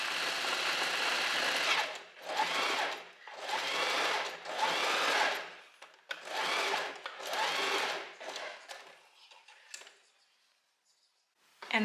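A sewing machine sews a long stitch along a dress bust cup in several loud, close runs of rapid rattling, broken by short pauses, then goes quiet near the end.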